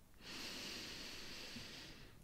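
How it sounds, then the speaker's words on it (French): A slow, deep breath drawn in through the nose during a guided breathing exercise, a soft, steady airy rush lasting about two seconds, close and quiet against a calm background. "Inspire profondément."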